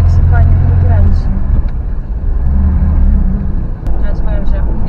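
An old, heavy rear-wheel-drive car's engine rumbles low and loud up close, its revs swelling and easing, with people talking over it.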